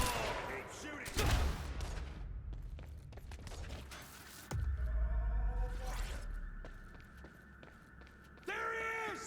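Gunfire in the action video game Quantum Break, with several sharp bursts and heavy shots separated by pauses, plus game effects and tonal sweeps between them.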